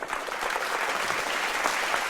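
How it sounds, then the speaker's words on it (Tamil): A school or college audience at a Thirukkural speaking competition applauds a student speaker with dense, steady clapping that holds at an even level throughout, with no voices over it. "அவங்களுக்கு ஒரு நல்ல கைத்தட்டல் கொடுத்துருங்க"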